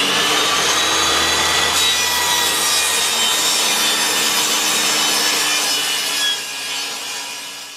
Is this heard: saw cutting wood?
yes